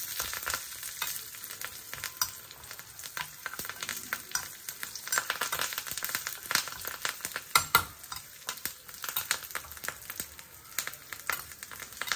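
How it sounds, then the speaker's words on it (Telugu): Mustard seeds and spices tempering in hot oil in a pan for ridge gourd chutney, a steady close crackling sizzle with sharp popping bursts throughout, no voices. "పోపుని సగం సగంలో ఎప్పుడు తీసేయకూడదు, మొత్తం వేగనివ్వాలి చక్కగా."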